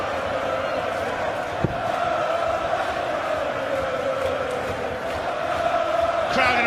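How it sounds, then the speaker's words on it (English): A packed darts crowd roars and cheers in a frenzy at the 2013 PDC World Darts Championship quarter-final. The dense, sustained din fills the whole stretch at steady loudness, with a sharp spike near the start and a swell at the end. "Crowd in a frenzy."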